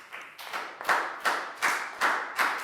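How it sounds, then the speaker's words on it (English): Students in a Year 4 classroom clapping together in a slow rhythmic pattern, about six distinct, evenly spaced group claps, each sharp and closely grouped. "a big round of applause for Lakau"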